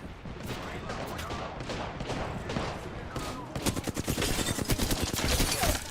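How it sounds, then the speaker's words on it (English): Rapid bursts of Knuckle Cluster fire in Apex Legends, scattered pops at first, then a dense fast rattling barrage that grows louder toward the end. "Knuckle clusters firing."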